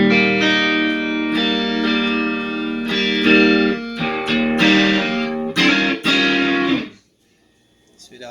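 An electric guitar played through a Lovepedal Supersix pedal with no reverb rings out in strummed chords and held notes, loud and dry, before cutting off into near silence.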